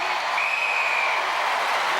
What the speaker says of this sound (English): Wesley's wife, Galena, on the right, leading the applause